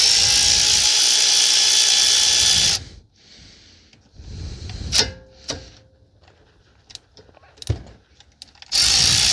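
A power tool, likely an impact driver or drill, works the caliper bolts on the front brakes of a 2019 Honda Civic 2.0 in a few short whirring bursts, separated by quieter clicks and clanks.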